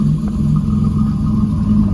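A 1984 Buick Regal T-Type's 3.8 turbo V6 idles steadily with a low, throaty rumble and a slightly uneven lope, running continuously close by.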